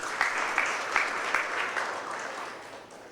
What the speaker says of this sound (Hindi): तालियां बजती रहें जी भाई